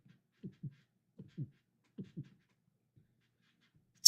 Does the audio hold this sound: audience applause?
no